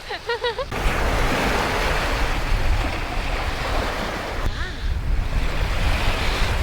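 Ocean waves break and wash continuously onto a beach, loud and close, with gusts of wind rumbling against the microphone and brief bird calls at the start.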